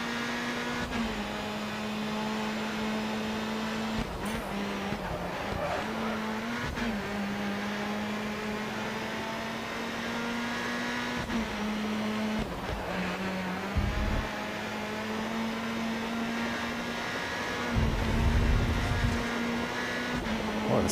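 Race cars in GRID Autosport on the Nintendo Switch roar steadily in surround sound, a sustained engine drone with shifting pitch and brief revs and gear changes, loud and continuous with no talking.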